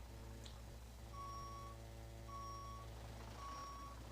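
A truck in a truck simulator game backs up, its reversing alarm sounding three evenly spaced beeps over a steady low engine idle hum, fairly faint and with no voices.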